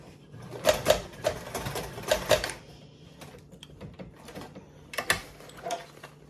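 A domestic sewing machine runs in short mechanical bursts while bag side seams are basted, a few quick stitching runs separated by pauses, close and moderately loud.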